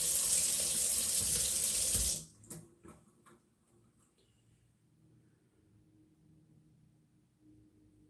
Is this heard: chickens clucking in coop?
no